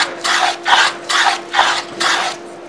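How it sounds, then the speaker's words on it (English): A moving fillister plane shears a shaving from wood in five steady rasping strokes, each a close, even scrape with a brief pause between. "It's taking a really nice shaving. It's not too hard to push."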